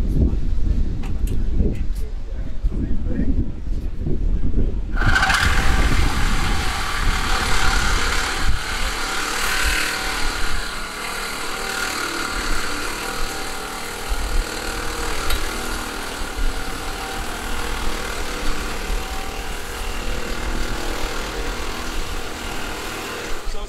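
Circular saw blade cutting a piece of rebar: after a few seconds of rough mechanical noise, a loud, harsh grinding screech starts and continues steadily to the end, close, with occasional talk underneath.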